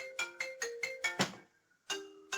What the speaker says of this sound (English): oh great, another phone interrupting me